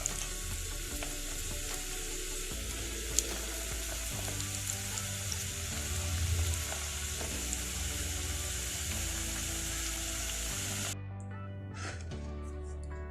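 Beef samosas frying in hot oil, a steady close sizzle with bubbling that runs throughout, then drops away abruptly near the end, leaving a quieter tail.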